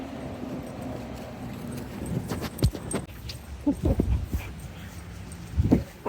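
Soft whimpers and yips from dogs close by, a few short bursts scattered over a quiet background, with light rustling movement.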